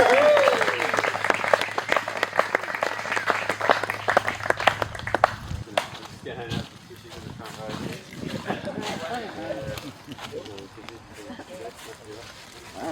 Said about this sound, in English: Round of applause for our beautiful bride.